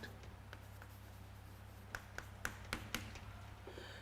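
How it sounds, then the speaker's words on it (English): A math problem written on a classroom board, with faint scratchy strokes and a handful of sharper taps as the marker or chalk hits the surface over a low room hum. "First, let me write the problem on the board."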